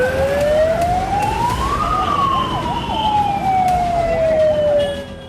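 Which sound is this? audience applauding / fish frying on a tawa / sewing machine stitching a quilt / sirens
sirens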